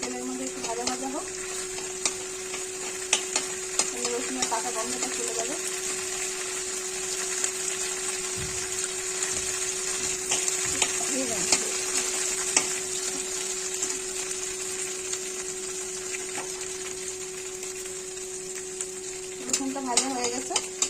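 Crushed garlic sizzles in hot oil in a pan as it is stirred, a steady bright frying hiss with occasional scraping, with a voice speaking over it.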